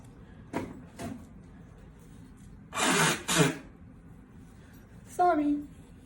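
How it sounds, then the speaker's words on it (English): A man blows his nose indoors in two short, forceful nasal blasts, close and loud, set among scattered quiet shuffles and brief vocal sounds in an otherwise calm room. "I gotta blow my nose"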